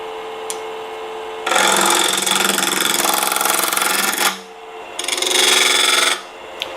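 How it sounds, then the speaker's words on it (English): Wood turning on a lathe as a tenon is cut on a salt cellar box blank: two loud, steady bursts of rasping tool-on-wood scraping, the first about three seconds long, then a brief lull and a shorter second pass, with no talk. "now I'm going to even this off and put a tenon on it so we can put it in the chuck"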